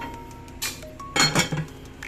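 A metal lid clanks and rattles onto a pot of cooking tofu, pork and sweet potato leaves, a couple of close, bright clinks over a faint background hum.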